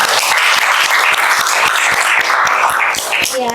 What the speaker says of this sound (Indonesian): tepuk tangan lah untuk kita semua